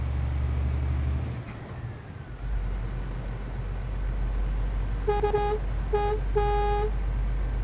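Scania truck horn in Euro Truck Simulator 2 with a realistic sound mod: three loud tonal blasts, the middle one shortest, over a steady low diesel engine drone and road noise.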